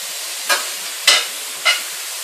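Minced garlic frying in a pan for a healthy Philly cheese steak wrap: three short, evenly spaced bursts of sizzle and stirring, close and fairly loud, with quiet gaps between.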